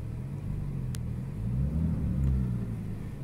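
Porsche engine idling just after starting, a low steady rumble that swells slightly midway, close by and with no talking.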